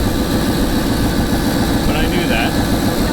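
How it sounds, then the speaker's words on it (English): A 1995 Chevy Suburban engine with freshly rebuilt heads runs on its first start, loud and close, with a leaking exhaust adding a harsh, steady rumble throughout. "Definitely an exhaust leak,"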